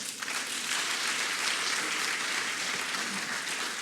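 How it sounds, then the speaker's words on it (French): Dense, steady applause from a large crowd at an official ceremony in Abidjan honouring President Macron, a continuous wash of clapping heard at moderate distance. "Ça s'applaudit."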